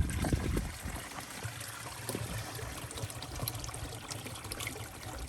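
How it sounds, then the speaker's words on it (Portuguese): Mountain water rushing steadily near a river beach in a remote village, a constant broad wash of flowing stream with a few low thumps at the start, heard close and alone. "estamos ouvindo o barulho da água mais forte aqui."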